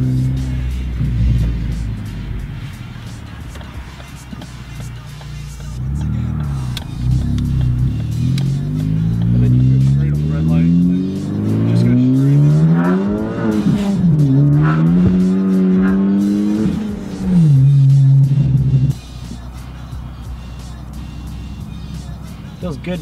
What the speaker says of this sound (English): Good to drive a car again, Ryan.